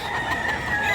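Chickens cluck briefly and loudly at a busy poultry market in Bocaue, Bulacan.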